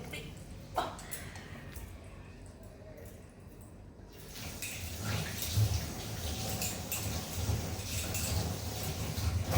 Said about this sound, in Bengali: হাতটা ধুয়ে আসি